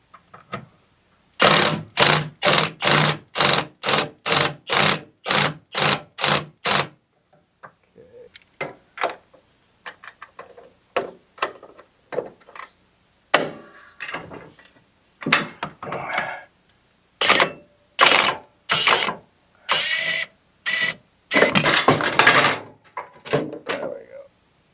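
Ratcheting wrench loosening bolts on a Cub Cadet RTZ 50 mower: a fast run of about a dozen sharp metallic clicks up close, then scattered clanks, clicks and bursts of ratcheting, with short pauses between.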